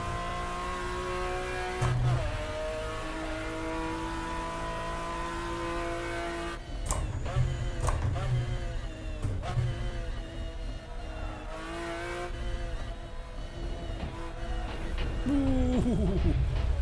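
McLaren F1 GTR in a sim racing game at Goodwood Circuit, its engine note rising and falling through shifts while drifting, with tire squeal and other cars nearby, loud and continuous throughout.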